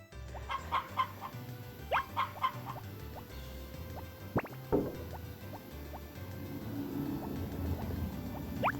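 Chickens clucking in the farming game Harvest Moon: Back to Nature, short repeated clucks in bursts over a quiet background with faint dripping and a low hum.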